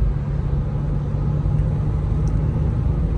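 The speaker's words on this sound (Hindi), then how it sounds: "अगर हम इसको सिक्स्थ गियर में चला रहे हैं तो ये अप्रॉक्सीमेटली 2000 आरपीएम पे 100 की स्पीड पे आराम से क्रूज" Inside a Mahindra Scorpio N SUV cruising in sixth gear at about 2000 rpm and 100 km/h, a steady low road-and-engine rumble drones evenly, muffled and constant, with no talking.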